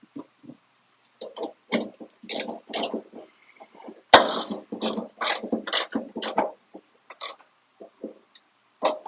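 An electric half-inch-drive ratchet works on a 1957 Chevy Bel Air, firing in repeated short buzzing bursts with brief pauses between them, close and fairly loud, with no talk over it.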